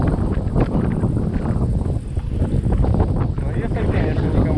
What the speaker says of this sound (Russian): И ветер сумасшедший, боковой.